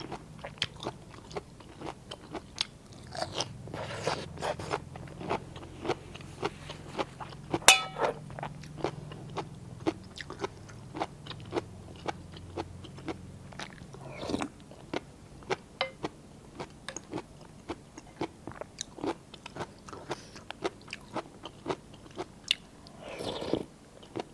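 Repeated crunchy bites and chewing of bamboo shoot curry with red ant eggs, close and steady throughout, with no talking.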